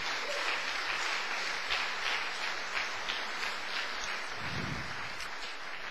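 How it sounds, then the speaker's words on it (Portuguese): Steady applause from a large church congregation, a dense hiss of clapping at even volume for the whole stretch, fairly distant. "Agora você pode dar uma salva de palmas para o Senhor Jesus."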